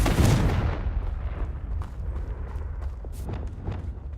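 An explosive fire spell blasting in a Harry Potter video game, a heavy booming burst at the start that rumbles and decays, followed by scattered crackling debris and faint thuds.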